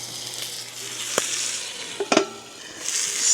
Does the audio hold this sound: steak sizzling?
yes